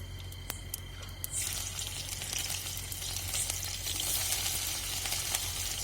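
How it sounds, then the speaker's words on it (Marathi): Cumin seeds and chili hit hot oil for tempering; after a few light ticks, a loud, close, steady sizzle bursts up and keeps crackling without letup. "जिरे मोरीच फोडणी देऊन घेऊ आणि मग लसूण आणि टाकू"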